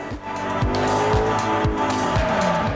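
A race car in Forza Horizon roars along at high revs, its engine note rising through repeated gear shifts with tire squeal, loud and close with no talk.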